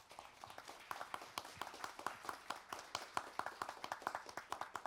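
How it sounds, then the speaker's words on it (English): Audience at a young entrepreneur forum clapping for the speakers, a steady patter of individual claps from a modest crowd, fairly quiet and continuous, with no voices over it. "Now to the amazing speakers, may we receive a full round of applause"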